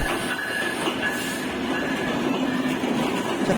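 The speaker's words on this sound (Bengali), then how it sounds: "দেখতে পাচ্ছেন আমাদের ট্রেনটি চলে এসেছে" A train pulls into a station in Bangladesh with a steady, loud rumble of rolling wagons and a faint metallic squeal running underneath, continuous throughout.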